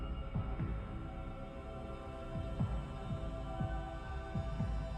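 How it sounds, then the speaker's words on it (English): Heavy heart-pounding sound effect for a tense horror story moment: low thumps in a slow repeating double-beat rhythm over a soft droning hum, with no voices. "my heart pounding"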